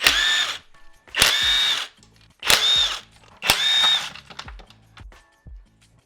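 A power tool zips bolts off the transmission pan of a 4L80E automatic transmission in four loud, close whirring bursts of about a second each, separated by brief pauses and clanks.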